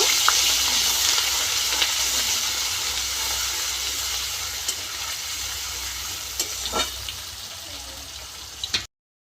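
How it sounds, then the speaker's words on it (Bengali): Onion paste fries lightly in a pan with bay leaf, a loud, continuous close sizzle broken by a few soft clinks of stirring, before it cuts off abruptly. "পেঁয়াজটা আমি একটু হালকা আগে ভেজে নেব।"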